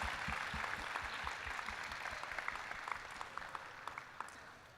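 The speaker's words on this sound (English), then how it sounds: "Give a big clap for this Argentina man." Audience clapping at the closing ceremony of the 11th GFSS, a fairly quiet, steady round of applause that continues through the moment with scattered distinct claps, heard alone without talk.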